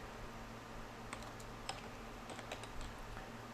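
Typing on a computer keyboard while writing an SQL Server query, a steady run of soft key clicks heard close and alone over a faint background hum.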